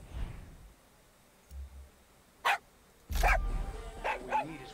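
A dog in the video game Far Cry 6 barks several times in short, sharp bursts, a few single yaps followed by a quicker cluster, fairly close against a quiet background.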